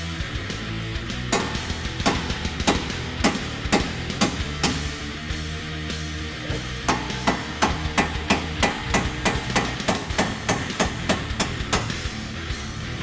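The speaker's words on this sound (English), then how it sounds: "so we can actually hit the nut with a hammer and not mushroom the end of the bolt" Sharp metallic hammer blows on a nut on a splined bolt of a Ford Mustang, struck one after another, slow at first and then in a quicker, steady run of loud close strikes.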